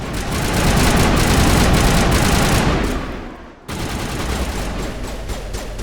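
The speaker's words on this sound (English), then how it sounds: "Why are you shooting a rock?" Sustained automatic gunfire aimed at a rock in Mass Effect 1, loud rapid bursts that dip briefly and then resume, with no talk.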